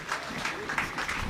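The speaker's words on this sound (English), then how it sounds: "He's getting a bit of a round of applause for his day's" A football crowd at a Woking v Oxford City match applauds a player being substituted, a soft, spread-out patter of clapping under a commentator's voice.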